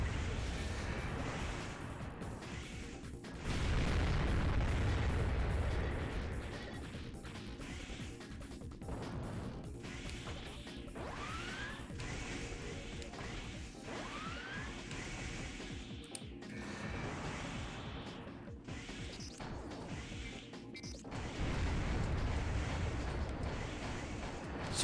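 A rifle fires in the Armored Core 6 video game, with heavy blasts and crashing impacts that come in loud bursts near the start and end, separated by a quieter rumbling stretch.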